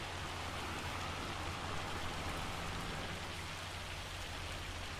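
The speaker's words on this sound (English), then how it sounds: "It's gonna be hailing all day long." Hail falling in Farming Simulator 25, a steady dense hiss of pelting ice with a low rumbling undertone that continues evenly throughout, with no voices.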